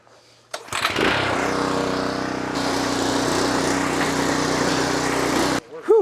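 A small gasoline engine on pond equipment, the Earthquake 6000, fires up after a choke adjustment and runs loud and steady for several seconds up close before cutting off.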